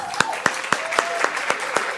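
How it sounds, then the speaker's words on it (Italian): Members of a live radio program team in Palermo clap along in steady, evenly spaced beats, with a faint voice humming beneath the rhythmic claps. "Fatevi sentire, fatevi l'applauso anche voi."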